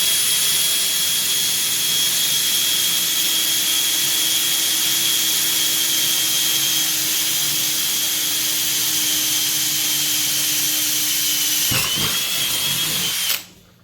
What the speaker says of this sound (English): We've got our drill loaded up with a 3/8 bit, and we'll just find center